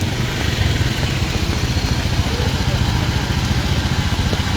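Motorcycle engine idling steadily with a close, loud, even mechanical rumble and light clatter, heard on a flooded road at night.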